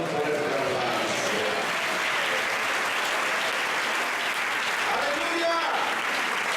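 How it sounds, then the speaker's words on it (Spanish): Loud, steady applause from a church congregation during a sermon, sustained throughout with voices faintly rising within the crowd noise. "Si usted lo cree, adórelo con un fuerte aplauso."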